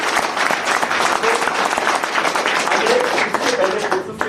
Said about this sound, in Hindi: एक बार अपने लिए भी ताली बजा दीजिए।